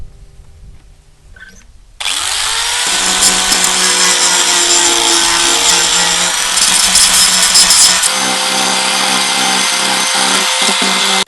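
A power tool starts up after a quiet moment and runs loudly and steadily, sanding furniture wood with a harsh whirring grind that shifts slightly in pitch near the end.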